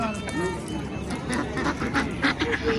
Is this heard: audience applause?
no